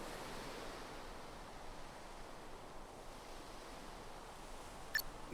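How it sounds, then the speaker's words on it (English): Gentle sea waves lap steadily in Bravely Default 2, a soft, even wash of surf held at low volume throughout, with a brief faint disturbance near the end. "The waves have died down some since the storm."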